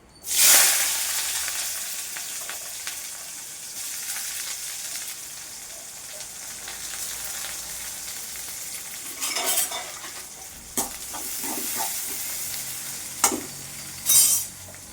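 Onions and curry leaves drop into hot oil in a pan with a loud initial burst of sizzling, which settles into steady frying hiss with occasional spatula scrapes, close up.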